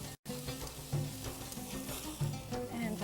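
Iraqi ground meat kebab sizzles quietly under a covered grill, a soft steady crackle with faint pops, low in level and without speech.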